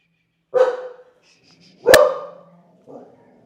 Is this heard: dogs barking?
yes